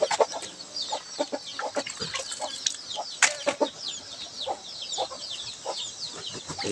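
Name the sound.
chickens clucking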